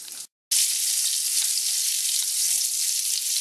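Chicken cutlets for chicken piccata fry in a pan with a steady, loud, close sizzle that runs almost without a break, cut only by one short pause near the start.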